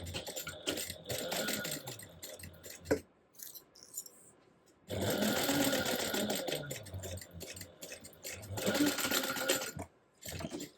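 A sewing machine runs close by, stitching two matched gusset pieces of a crossbody bag at a 3/8 inch seam, in a few sustained whirring bursts broken by short pauses.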